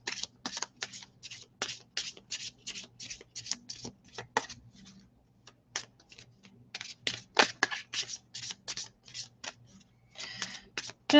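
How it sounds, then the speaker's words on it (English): Close, quiet riffle shuffling of a tarot deck, with rapid bursts of card flicks in uneven clusters and short pauses, over a faint low hum. "Just doing a shuffle."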